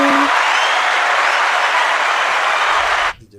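A studio audience bursts into loud, dense applause that holds steady for about three seconds, then cuts off abruptly into quiet.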